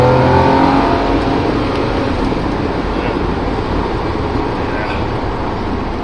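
A 1997 Mercedes SL 70 AMG accelerates hard, its engine a loud, steady roar with road and wind noise filling the cabin, alone with no talk.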